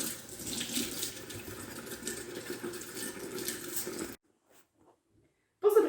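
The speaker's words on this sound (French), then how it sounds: "Premièrement, avant de faire la cuisine, il faut se laver les mains." Tap water runs steadily into a sink while hands are washed, a continuous splashing rush for about four seconds before it cuts off to near silence, then a brief loud burst at the end.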